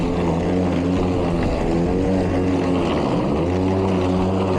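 Milwaukee 2823-22HD battery electric lawn mower runs loud and close with a dense whirring hum, its pitch sagging and wavering as the blade bogs down in grass.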